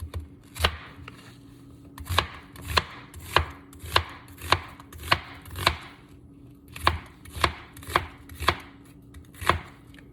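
A knife chops vegetables for a veggie stir fry in a quiet kitchen, with a steady series of sharp, close board strikes at a fairly even rhythm, often in quick pairs, with no talking.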